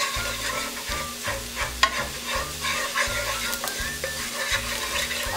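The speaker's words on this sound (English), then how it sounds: "And mix it around until the garlic turns light brown." Garlic sizzles steadily in a hot pan while it is stirred around, with rhythmic scraping strokes repeating over the continuous frying hiss, close and alone without talk.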